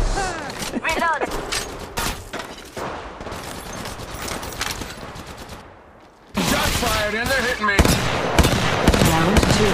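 Rapid bursts of automatic gunfire in Apex Legends Mobile, loud and close, with a brief lull midway before heavy firing resumes; game voice callouts are heard among the shots.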